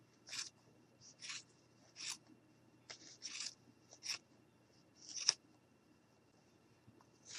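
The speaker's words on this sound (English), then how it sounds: "we're just going to go ahead and cut these open" Scissors snipping open yarn pom-poms for a mason jar craft, a series of crisp, quiet cuts spaced about a second apart, close up against a faint background hum.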